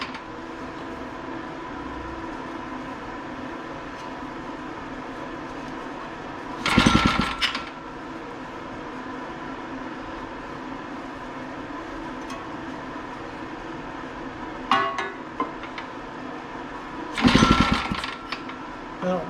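An old REO small engine, once frozen in a snow bank and recently flooded, runs with a steady rapid chatter throughout, close and fairly loud, with a few brief louder bursts of noise over the running.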